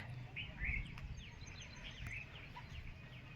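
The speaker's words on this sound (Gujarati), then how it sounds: "જોરદાર મોર બોલતા પણ સંભળાશે" Birds, likely peacocks, call outdoors around a rural Shiva temple at Halenda near Atkot, with short repeated cries rising above steady low background rumble and noise.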